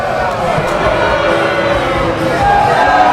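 A wrestling crowd roars and whoops steadily as two wrestlers trade forearm blows, a loud continuous wall of cheering with commentary voices mixed underneath.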